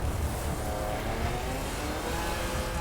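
Car rolling downhill in The Crew racing game, a steady, moderately quiet engine and road drone that gathers speed without breaks or talking.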